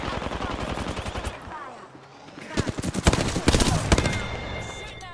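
Rapid bursts of gunfire from the Apex Legends video game crackle in clusters, with a faint pause midway before louder volleys return.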